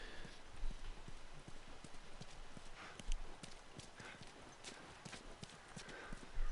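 A horse in The Last of Us Remastered trots with steady, rapid hoof clip-clops over a background hiss, moderately close and continuous.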